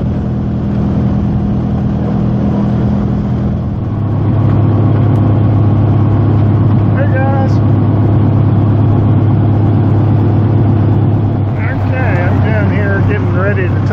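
A Bulldog light aircraft's engine drones steadily and loudly from the cockpit while taxiing toward the runway for takeoff, its pitch settling lower partway through, with a voice talking over it.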